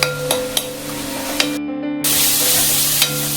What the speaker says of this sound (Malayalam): ഇനി ഇതിലേക്ക് നമുക്ക് ആവശ്യത്തിന് കൂടെ ചേർത്ത് നല്ലവണ്ണം ഇളക്കിയെടുക്കാം.